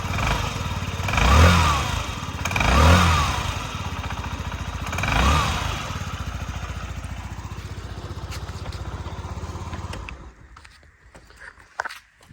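A small Yamaha Jog SA36J scooter engine idles close by, revving up in three short surges before settling, then cutting off near the end.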